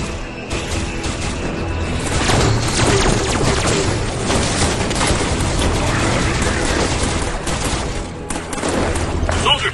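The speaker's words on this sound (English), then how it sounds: "Plasma caster." A plasma caster fires in a chaotic video game battle: dense bursts of booming, crackling weapon blasts layered with explosions and mechanical clatter, loud and continuous, with voices shouting over the din.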